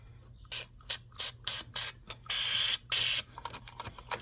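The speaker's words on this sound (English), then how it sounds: "Spray some WD-40 down in there." WD-40 is sprayed into an engine in a series of short hissing bursts, about eight close puffs of varying length separated by brief pauses, with a low mechanical hum underneath.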